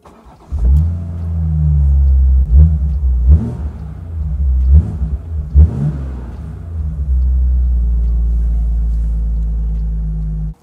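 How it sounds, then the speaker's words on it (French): A Morgan Plus Six fires up close by with a sharp start and settles into a deep, rumbling idle, broken by several quick throttle blips that rev and drop back before the engine keeps running steadily. "Je vous propose désormais d'écouter cette Morgane Plus 6 qui, vous allez voir, procure une très bonne sonorité."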